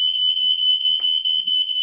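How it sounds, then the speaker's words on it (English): A smoke alarm emits a loud, piercing, continuous high-pitched tone close by, with faint soft bumps beneath it. "Smoke alarm."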